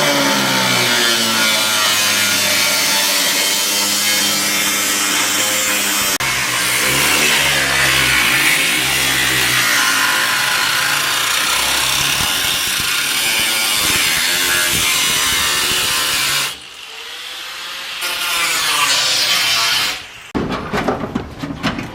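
Car body sheet metal on a Honda or Acura being cut by a power tool, a loud, steady, harsh grinding that runs continuously and close, then breaks off and restarts near the end.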